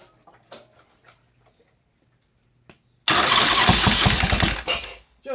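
A Harley-Davidson motorcycle, recently fitted with a new starter pinion jackshaft, sits quiet with a few soft clicks before its starter cranks loudly with rapid chugging pulses and the engine catches and roars close by.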